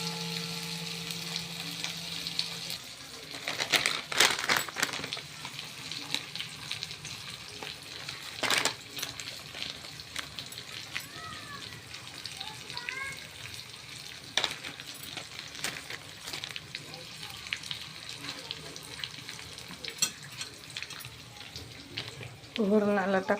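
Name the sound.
spices sizzling while tempering dal in a kadai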